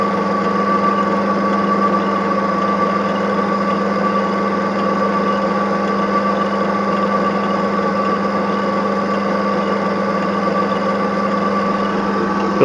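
A machine fitted with a homemade oil drop lubrication system runs steadily, giving a continuous even hum with a constant tonal whine and no break for the whole stretch.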